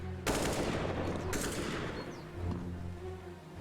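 Rapid automatic rifle and sniper fire from a Counter-Strike: Global Offensive collegiate playoff match, with dense sustained bursts of gunshots that run continuously through the moment, loud and close.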